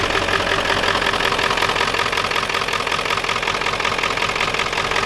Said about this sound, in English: I don't like to rev a diesel like that, but it wouldn't stay running.